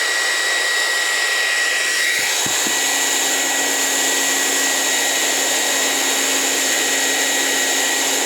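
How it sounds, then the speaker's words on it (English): Household hairdryer blowing steadily and loudly at close range while drying an RV roof during a Forest River sewer vent repair, a constant whooshing roar with a brief clunk partway through. "here, use my hairdryer."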